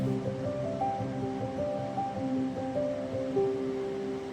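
Chopped carrot and spring onions fry in hot oil for meal maker fried rice, giving a steady, even sizzle that holds at moderate loudness throughout, with no talking.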